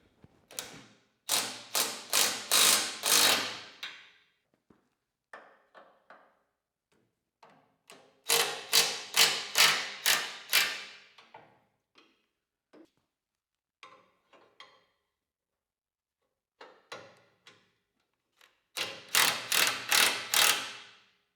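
A ratchet wrench clicks in rapid bursts of several strokes each, loosening the loader mounting bolts on an Allis Chalmers D17 tractor, close and loud, separated by quiet gaps with faint metallic taps and no talk.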